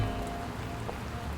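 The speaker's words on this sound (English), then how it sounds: "you can hear the sound of rain on a sidewalk" Steady rain pattering on a sidewalk, a dense, even wash of drops with a faint distant hum beneath, continuous and close.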